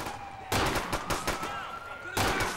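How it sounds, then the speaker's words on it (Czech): Gunfire in the video game GTA IV rings out in several sharp bursts of shots, loud and close, separated by short pauses, with faint ringing tones between them. "Zvuky výstřelu."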